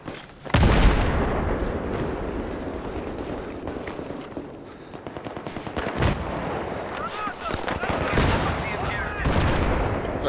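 Rapid bursts of enemy gunfire crack and rattle in Battlefield 3 multiplayer on Strike at Karkand, loud and near with repeated automatic volleys and booms throughout.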